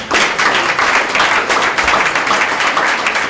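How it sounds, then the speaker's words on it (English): Sustained applause from an audience, dense clapping at a steady level throughout with no pauses. "Give them a clap, guys."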